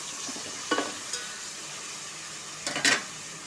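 Chicken pieces with chopped tomato and green chillies sizzle steadily in a pan, stirred with two brief scraping clusters of the spoon, close and with no voices.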